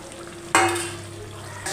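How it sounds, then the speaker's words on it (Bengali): Potatoes and soya chunks hit hot spiced oil in a pan with a sudden sizzle that bursts loud, then settles into a steady frying hiss up close. "এবার আলু আর সয়াবিন বড়িটা ওর সঙ্গে কষে নেব।"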